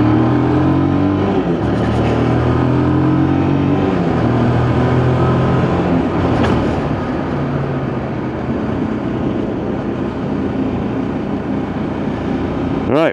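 A motorbike pulls in toward a garage for its MOT, its engine a loud, continuous rumble with shifting pitch that rises into a revving swell midway and then settles, heard close.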